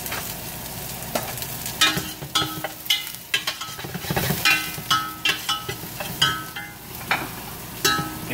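Lechon paksiw ingredients, including garlic, frying in oil: a steady crackling sizzle broken by repeated scraping stirs, close up with no talking.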